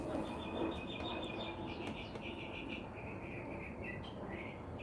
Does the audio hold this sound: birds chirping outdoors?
yes